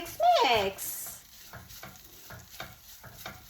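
Okra fries in a pan with dry mango powder, sizzling steadily as a spatula stirs it in a rhythmic series of scraping strokes, after a short vocal sound at the start.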